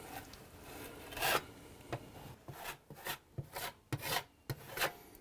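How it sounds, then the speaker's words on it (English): A trowel smoothing a plaster base coat over a patched hole in a wall, heard as a series of close rasping strokes, short and irregular, with quiet gaps between them. "Now it's just a matter of smoothing out all of the base coat"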